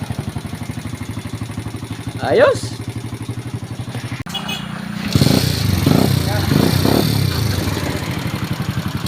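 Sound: motorcycle engine starting and idling

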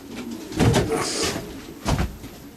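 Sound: pigeons cooing in loft

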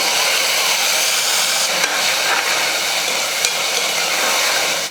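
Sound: ground tomato paste sizzling and being stirred in a pan

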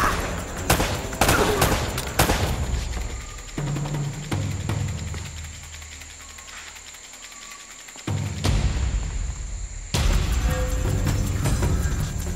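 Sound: gunfire in Uncharted: Drake's Fortune video game

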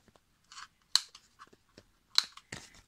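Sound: cutting corners of a collage postcard

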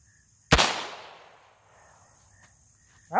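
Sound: KEL-TEC PLR-22 pistol being test fired

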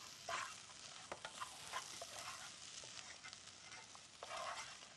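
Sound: stirring vegetables sautéing in hot pot before adding soup

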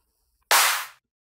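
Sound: self-made clap drum sample

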